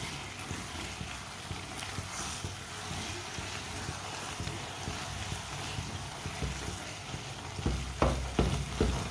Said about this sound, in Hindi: अब इसी तरह चम्मच चलाते हुए हल्का सा ब्राउन कर लेंगे।